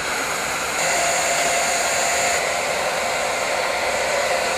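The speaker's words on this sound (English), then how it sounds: "And then what I normally do is use the hairdryer." A hair dryer blows steadily and loudly for the whole stretch, a dense broadband whoosh that steps up slightly in strength partway through, with no talking over it.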